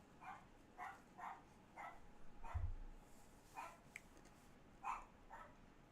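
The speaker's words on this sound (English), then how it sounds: "my dog wants to start barking" Dog barking at a distance indoors, a steady series of faint single barks at regular intervals over low background hiss.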